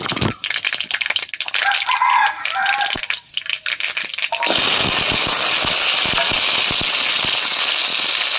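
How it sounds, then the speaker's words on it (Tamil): Mustard seeds and dried red chillies crackle in hot oil for a tempering for kuzhambu, a dense, close popping and sizzling that starts sparse, then bursts into a loud continuous spatter about halfway through. "இப்போ வந்து குழம்பு தாளிக்க போகிறேன் கடுகு எண்ணெய் கடுகு வரமிளகாய் சேர்த்ததுக்கப்புறம்"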